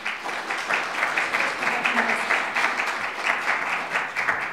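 Audience applause at a public council hearing on a rezoning bylaw: a steady burst of many hands clapping together, dense and moderately loud, fading slightly toward the end.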